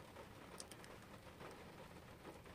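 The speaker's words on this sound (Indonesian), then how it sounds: "Ini hujan ya. Hujan pagi-pagi nih." Steady rain falls in the morning, a continuous broadband patter with a few brighter drop hits over a constant wash, heard from inside or near a car on an airport run; no talk.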